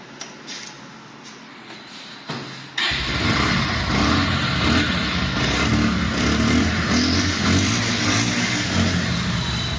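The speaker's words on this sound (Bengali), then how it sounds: "তো এখন দেখা হচ্ছে বাইকটির সাউন্ড" A Bajaj Pulsar ABS motorcycle engine starts after a few clicks and then runs loud and steady at close range, holding a continuous rough idle with no voices.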